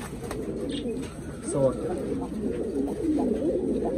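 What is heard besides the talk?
pigeons cooing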